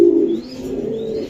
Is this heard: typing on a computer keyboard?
no